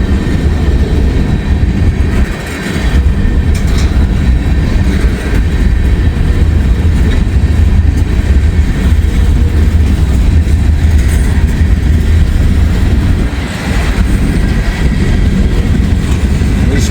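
A very long freight train creeping slowly past on a misty, lightly rainy day, a loud, close, continuous low rumble and grind that fills the whole stretch with little change.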